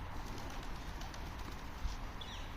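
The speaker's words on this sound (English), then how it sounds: "Oh, pigeons." Pigeons coo softly near an overpass on a quiet night after a storm, faint calls over a low background hum.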